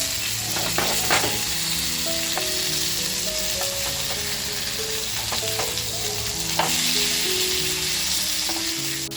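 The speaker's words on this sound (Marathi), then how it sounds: "आपलं पापलेट दुसऱ्या बाजूने सुद्धा आहे ना मस्त असं फ्राय झालेलं आहे" Prawn-stuffed pomfret fries in a pan over lowered heat, giving a steady, dense sizzle that holds throughout, with scattered crackles and a few soft clicks of a utensil close by.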